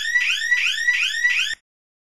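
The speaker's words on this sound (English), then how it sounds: "this is the Tattletale Portable Alarm System" A Tattletale portable wireless security alarm sounds a loud, fast warbling siren in four rapid sweeping pulses, then cuts off abruptly into silence.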